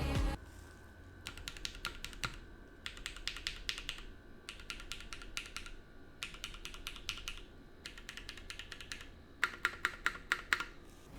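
Steady typing on a mechanical keyboard with Linjar linear switches, quick bursts of keystrokes separated by brief pauses, close and fairly quiet with a soft background hiss.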